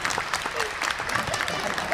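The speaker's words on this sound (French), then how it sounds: "Applaudissements," Convention audience at a panel with actors, clapping in a dense sustained burst of applause, with a voice speaking briefly over it.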